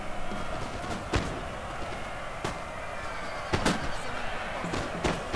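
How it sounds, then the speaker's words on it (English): Napoleon Total War battle with rockets flying, sharp cracking launches and whooshes spaced every second or so over a constant rumbling din of combat. "Rockets flying"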